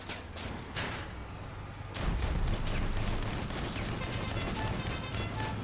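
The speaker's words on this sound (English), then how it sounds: "Twin shotgun." Heavy twin shotgun blasts boom in the vehicle combat game Crossout, a few sharp shots followed by a sustained roar of firing and explosions.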